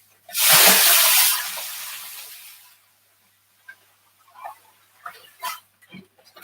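Material poured into an aquarium tank being converted from marine to freshwater: a loud, close rushing pour lasting about two seconds that tapers off, followed by a few soft clunks and shifting sounds.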